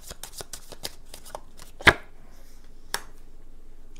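Playing cards are riffled and shuffled close by in a quick flurry of crisp flutters, then laid down with a sharp slap and a later softer snap for a tarot-style reading, with no talk.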